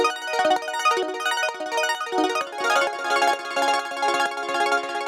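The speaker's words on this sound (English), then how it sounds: "this arpeggiator is also a preset. It's called Baroque." Dry Baroque arpeggiator synth preset with no chorus or delay, a steady stream of fast, bright plucked notes cycling through a mellow chord pattern, moderately loud with no voices.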